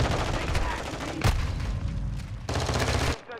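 Gunfire in a Call of Duty match, steady automatic shooting with a sharp loud shot near the middle, a brief lull, then another burst before it cuts off.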